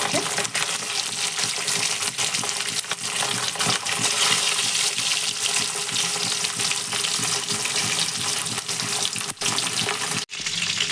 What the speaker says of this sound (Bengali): মাছগুলো একটু লাল লাল করে ভাজবো